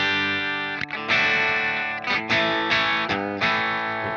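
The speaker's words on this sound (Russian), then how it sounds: "Достаточно ядовитый звук." An electric guitar played through a Marshall JCM 800 2203 amp on its high-gain channel rings out in sustained distorted chords, each struck and left to decay, with short breaks between them.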